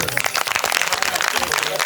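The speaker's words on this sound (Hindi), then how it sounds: "इसके लिए भी ताली बजा दो" An audience at a religious discourse claps, giving a short burst of dense, scattered applause close by while a voice talks over it.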